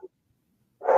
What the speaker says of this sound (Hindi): पीछे कुत्ते भौंक रहे